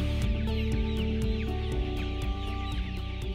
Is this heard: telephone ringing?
no